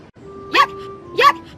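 Two short, high puppy barks or yips about half a second apart, close and clear over quiet, steady background tones.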